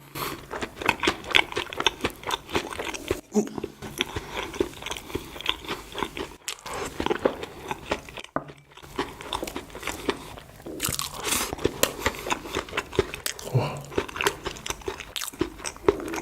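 Crunchy biting and chewing of real corn bread dipped in milk, loud close-miked mouth sounds in a steady run of crisp bites and wet chews, with a few brief pauses.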